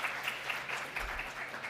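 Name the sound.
audience applause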